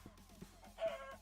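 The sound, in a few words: chickens clucking in Minecraft video game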